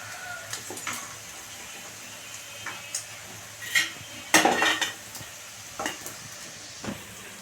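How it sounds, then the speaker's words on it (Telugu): Fried dried shrimp being scraped from a pan into a bowl with the stove switched off, giving a series of light metallic clinks and scrapes of a utensil against cookware, scattered through the clip at moderate loudness, with no talk. "స్టవ్ ఆఫ్ చేసేసి ఇప్పుడు వాటిని బౌల్లో పక్క తీసేసుకుందామండి."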